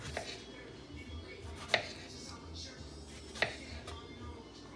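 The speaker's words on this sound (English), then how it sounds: "let's get started cutting some of these big strawberries" A knife slicing big strawberries for a honey parfait, giving a few sharp cutting taps spaced out over a soft steady kitchen background.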